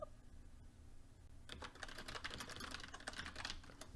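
Typing on a computer keyboard while writing notes: soft, quick keystroke clicks begin after a quiet start and continue in an irregular patter, close and fairly faint, with no talking.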